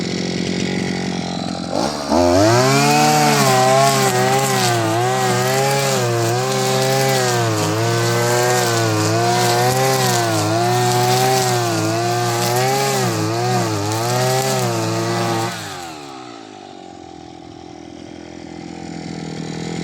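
Crosser brush cutter engine held at about half throttle, a loud steady two-stroke drone with a wavering pitch that runs for about thirteen seconds, then drops away to a low idle near the end.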